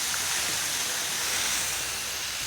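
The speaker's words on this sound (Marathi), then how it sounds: "आणि नॉनस्टिकवर पण आपल्याला पाणी मारून घ्यायचं आहे." Water is sprayed steadily onto a sack wrapped around a betel leaf vine, making a continuous even hiss with no talking.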